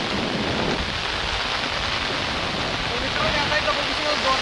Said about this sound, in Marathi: आपल्याकडे पाऊस